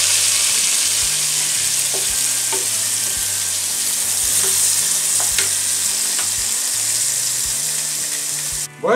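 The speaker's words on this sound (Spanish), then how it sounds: "le vamos a echar un poquito de vino para que se despegue lo que ha soltado el bacon" Bacon and onion fry in a pan as wine goes in, giving a loud, continuous sizzle with scraping stirs of a utensil and a brief burst of hissing at the end.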